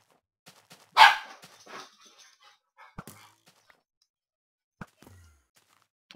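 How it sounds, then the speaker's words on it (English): A puppy gives one sharp, loud bark near the start, followed by a few faint scattered thumps and clicks in an otherwise quiet room during a Minecraft hardcore game session. "I'm really sorry about my puppy barking in the background."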